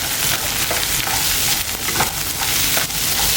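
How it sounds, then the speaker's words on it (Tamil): Large onions sautéing in a pan for veg salna at a Puducherry roadside stall, loud continuous sizzling with repeated stirring scrapes, close and steady, no talking. "இது நல்லா வதக்கணும்."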